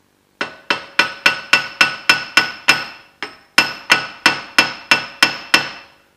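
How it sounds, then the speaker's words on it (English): Hammer taps on a bad Mini Cooper wheel bearing being driven out, a steady run of about fifteen close, sharp metallic strikes with ringing decay and one brief pause midway. "just give it some gentle tapping with the hammer"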